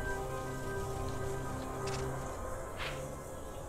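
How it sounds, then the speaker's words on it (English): Rain falls in the Final Fantasy XII video game over a sandsea area, a steady soft hiss with a few brief brighter splashes, layered over a constant tonal game background, no voices. "It's raining, so it has atmosphere."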